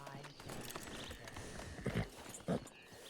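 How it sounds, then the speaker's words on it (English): Horse hooves clip-clop at a walk in a Red Dead Redemption roleplay game, a steady moderate-level patter with a couple of louder thuds near the end, while a voice talks over it. "Just saw a horse down here"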